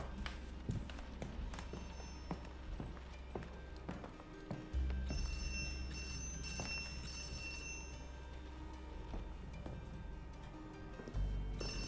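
A telephone rings in a horror video game, faint repeated bell-like rings threaded through a busy mix of footsteps, clatters and low droning game ambience; no speech.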